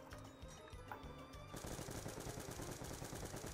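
Sustained automatic machine gun fire rattles in Call of Duty zombies mode, a rapid continuous stream of shots that grows louder and denser partway through, with no talk over it.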